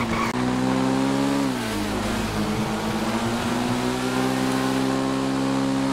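Car accelerating in GTA RP: a loud, steady engine drone that pitches down at a gear change, then holds and climbs gradually as the car keeps speeding up, close and dominant throughout.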